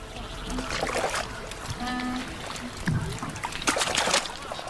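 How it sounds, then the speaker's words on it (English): Water sloshes and splashes around flat-bottomed boats moving through shallows as fishermen drive fish with cormorants, with trickling and paddling sounds and some faint distant voices. "The men maneuver flat-bottomed boats to drive fish into the shallows."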